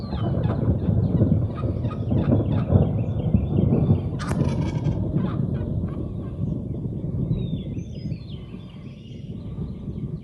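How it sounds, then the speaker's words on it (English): Wild turkeys gobble out in the open during a thunderstorm, several loud rolling gobbles close by over a constant rumble of rain and wind. "every time it thunders, I keep hearing these turkeys gobbling"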